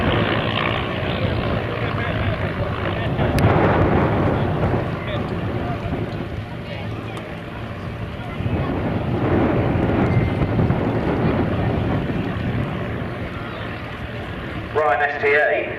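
Vintage aircraft including a Ryan STA, a biplane and a yellow Magister jet fly past in formation at an airshow, giving a continuous engine drone with a swelling pass, wind buffeting on the microphone and a commentator talking over it.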